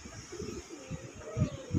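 A pair of deep red Goll pigeons coo softly, with low rolling coos repeating in short pulses, close by and fairly quiet.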